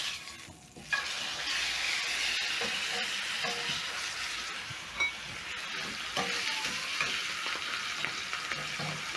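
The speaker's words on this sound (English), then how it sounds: "Once my pan is hot, I'm going to place in my steak." A rib eye steak sizzles loudly in a hot oiled 12-inch cast iron pan over a high flame. The steady, close frying hiss carries through with small pops and no talking.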